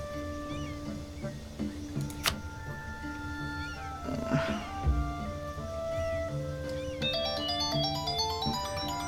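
A phone's ringtone for an incoming call plays as a repeating melodic electronic tune, chiming steadily over game background music and brief low thumps, with a rising run of tones near the end.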